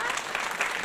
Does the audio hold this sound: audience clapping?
yes